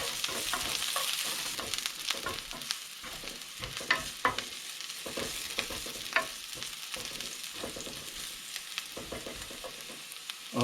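Garlic sizzles and fries steadily in a hot pan for a scrambled egg with cucumber dish, a dense continuous crackle broken by sharper stirring scrapes and clicks, close and alone with no talk.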